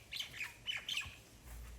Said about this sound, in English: our biggest pest is birds